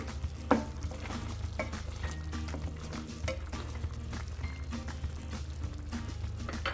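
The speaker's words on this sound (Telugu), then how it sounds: "ఇప్పుడు ఒకసారి ఇలా మళ్ళీ ఒకసారి తిప్పుకుందామండి" Yogurt chicken biryani masala frying in oil in a pot while being stirred, a steady sizzle with scattered scraping and stirring clicks throughout, close and continuous, with no talking.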